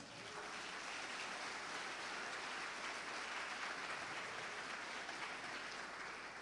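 Congregation applauding the Lord during a church service, a steady, dense wash of clapping that holds evenly throughout with no voices on top.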